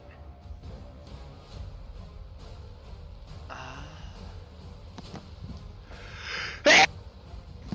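A single person sneezes during a tabletop role-playing session, a sharp, loud burst near the end preceded by a brief intake of breath, set against quiet room tone and faint background murmurs.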